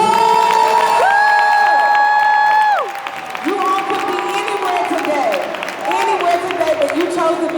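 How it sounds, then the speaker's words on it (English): Audience at a speaking event under the dome of the Georgia State Capitol applauds and cheers loudly, with whoops and shouts rising over steady clapping, then softening as voices carry on. "Give yourselves a round of applause."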